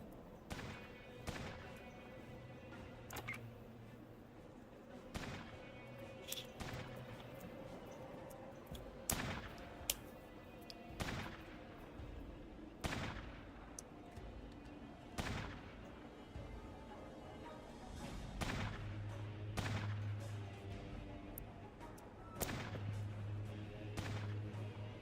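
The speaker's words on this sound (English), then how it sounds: "I guess my two characters are just gonna sit there and shoot." Characters trading fire in the turn-based game Fallout Tactics: a series of sharp, booming gunshots spaced irregularly across the stretch, some in quick pairs, over a low ambient game hum.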